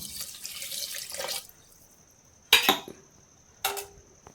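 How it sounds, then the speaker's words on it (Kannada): Water for bisi bele bath is poured into a cooking pot in a steady stream for over a second, then two short splashing pours follow, close and fairly loud with no talk. "ಮತ್ತು ಒಂದು 3 ಕಪ್ಪಷ್ಟು ನೀರು ಹಾಕ್ತಾಯಿದ್ದೀನಿ"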